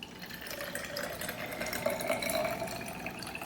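Water poured into a Spartan Mosquito Pro Tech container, a steady close-up splashing gurgle with a rising filling tone that runs continuously and unaccompanied by talk.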